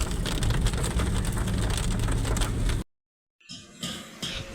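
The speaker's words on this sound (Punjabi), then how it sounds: "ਹੁਣ ਫੇਰ ਸ਼ੁਰੂ ਹੋ ਗਿਆ ਮੀਂਹ" Steady rain pours down loudly for a few seconds, cuts to silence, then returns as a softer patter of drops.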